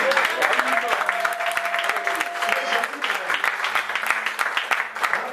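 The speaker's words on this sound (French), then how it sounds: "Est-ce qu'on peut acclamer Jésus?" A church congregation applauds and cheers for Jesus during a worship service: sustained, lively clapping from a roomful of people with voices calling out through it, steady throughout.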